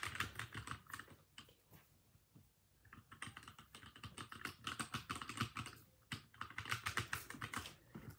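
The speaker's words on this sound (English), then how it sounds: "That's how white switches sound." Rapid keystrokes on a 60% mechanical keyboard fitted with white switches, heard up close. Bursts of clicky typing break for a pause of about a second, then resume in dense runs.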